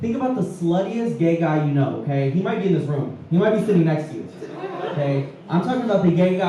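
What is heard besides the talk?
No everyday noises stand out.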